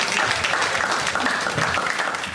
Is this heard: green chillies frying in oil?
no